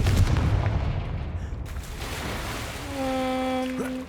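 A Confringo blasting spell goes off in Hogwarts Legacy inside a cave, a rumbling booming explosion with a long, roaring decay, followed by a rising tonal magical chime.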